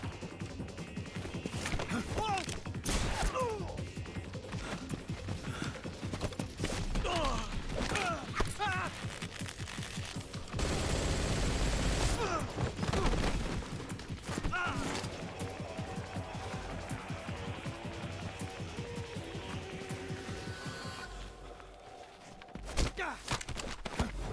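Gunfire in the stealth action game Metal Gear Solid Delta: Snake Eater, with repeated sharp cracks and crashing impacts mixed into busy game noise and music, while a voice talks over it.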